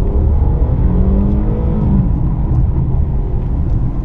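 Infiniti Q50 Hybrid accelerating hard with its electric motor and petrol engine driving the rear wheels together, a steady loud engine rumble with rising tones, heard from inside the car with no talking.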